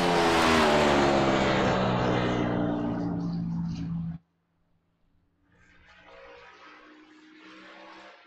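A loud video-game car engine revs hard and whines, then cuts out abruptly; after a brief silence, a quieter engine hum returns.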